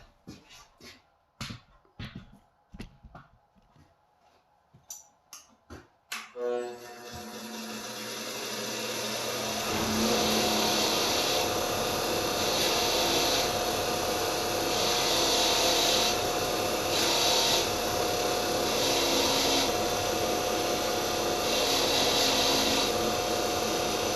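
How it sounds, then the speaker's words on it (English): A wire wheel scrubs debris off a steel part from a Felco pruner at a workbench, a steady loud whirring grind that runs for about fifteen seconds after several short knocks and clicks of handling. "Back to the wire wheel with this piece."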